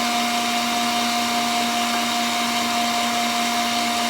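Electric mixer beating meringue, a loud, steady motor whine with a constant pitch that runs without a break.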